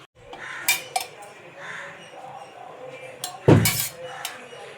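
A pressure cooker set down on a stove for a buttermilk meat curry, with metallic clanks and clinks of pots and utensils, one heavier bump near the end, close by with light background noise.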